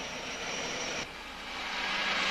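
An army helicopter flies over the Moroccan front lines, heard as a loud, steady engine roar and broad rushing noise that dips briefly and then swells again, with no voices.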